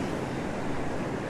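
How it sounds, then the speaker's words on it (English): Ocean waves breaking at Currumbin Beach, Queensland, a dense continuous wash of surf mixed with strong wind noise, steady and loud with no voices. "The waves are going off."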